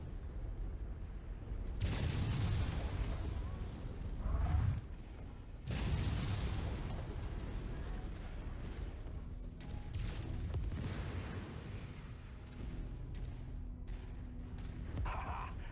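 Mech weapons discharge in Mechwarrior 5, PPCs, lasers and SRMs fired together: loud booming blasts and bursts in several waves, with crackling energy shots and rumbling impacts trailing off over a steady battle din.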